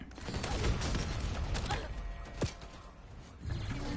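Incoming gunfire in a shooter game cracks as a scattered volley of sharp shots over steady background noise, with one standout hit near the middle and a few muffled thuds toward the end.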